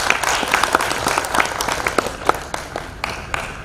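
Audience applause fills the hall at Gandhi Smriti Bhavan during a poetry event in Porbandar, steady clapping with sharper individual claps standing out, fairly close and sustained without talk.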